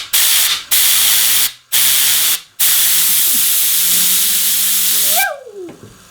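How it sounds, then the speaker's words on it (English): High-pressure water hose spraying onto a fidget spinner, a loud broad hiss in several bursts with short pauses, a rising whine from the spinning toy beneath, then the spray cuts off and the whine fades. "I'm going to use a high pressure hose."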